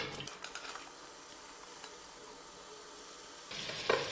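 Sliced onions go into hot coconut oil in a cooker for a Kerala-style beef curry and sizzle steadily at close range, with a louder burst of frying at the start and again near the end.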